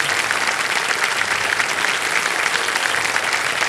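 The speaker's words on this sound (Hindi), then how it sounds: "हिमानी जी के लिए एक बार फिर जोरदार तालियां बज जाए" Dense, steady applause fills a television quiz show studio, a large audience clapping loudly and evenly without pause.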